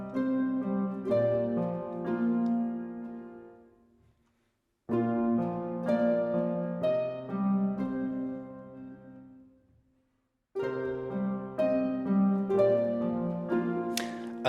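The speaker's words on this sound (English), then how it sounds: "So I recorded that on the piano and I doubled it on the harp." A composed melody for a game score, played on piano and doubled on harp, unfolds in three gentle plucked-and-struck phrases. Each phrase is separated by a short pause, and the notes ring out warmly with no voices.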